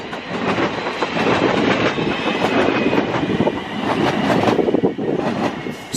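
A Class 350 electric multiple unit, 350-264, runs through Crewe station on a Liverpool Lime Street to Birmingham New Street service. Its loud, steady rumble carries rhythmic clickety-clack of wheels over rail joints throughout.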